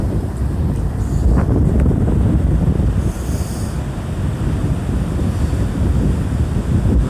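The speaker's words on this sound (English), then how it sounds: "Waves coming in, the water's coming in." Atlantic Ocean waves roll onto an Atlantic City, New Jersey beach on a winter night, a loud continuous wash of surf mixed with heavy wind noise, swelling and easing without pause.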